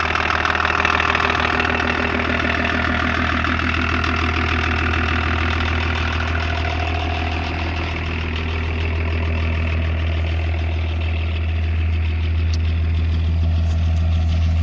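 A 1984 Lincoln Continental turbo diesel with dual exhaust idles close up, a steady low rumble with a fast clattering diesel knock running throughout.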